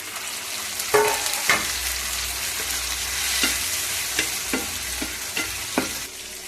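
Chopped tomato frying with onion and soybean in a pan for a Marathi soy vegetable dish, a steady sizzle broken by several sharp scraping stirs, close and alone.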